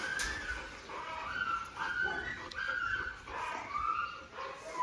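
A five-and-a-half-month-old puppy at a dog kennel yips and whimpers in repeated high, thin cries over steady background noise. The sound is close and moderate in level, with no clear speech.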